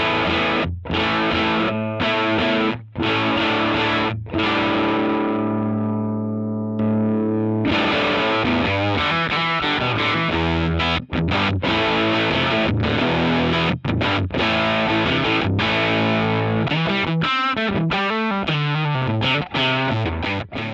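Loud electric guitar through a Tubesteader Eggnog overdrive preamp pedal, playing crunchy rock chords and riffs, with a sustained ringing chord midway before choppy strummed phrases resume.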